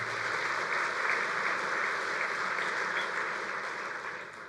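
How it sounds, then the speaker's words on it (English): Steady round of applause from a bowling convention audience at an annual meeting session, dense and even throughout, tapering slightly toward the end. "So give yourselves a big round of applause locally for helping promote that"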